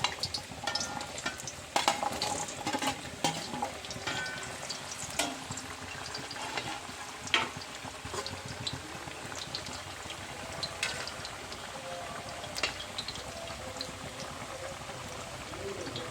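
Raw banana pieces frying in well-heated oil for Onam sharkara varatti, a continuous soft sizzle with bursts of crackling and bubbling, moderately quiet and steady over about sixteen seconds.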